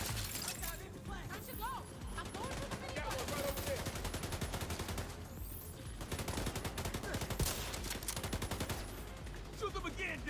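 Rapid bursts of automatic gunfire crackle almost continuously through a shootout in The Division 2 video game, dense rattling volleys with short pauses and a player's voice talking over the action.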